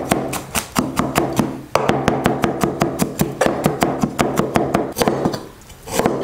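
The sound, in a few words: knife coarsely chopping garlic cloves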